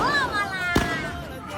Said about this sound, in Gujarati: ફટાકડા ફોડો છે ને મોજ કરે જો।